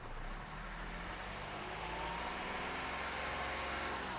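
Car engine revving up to around 3000 RPM, a steady, loud, continuous mid-to-low engine roar held close by for the whole stretch, with no talking.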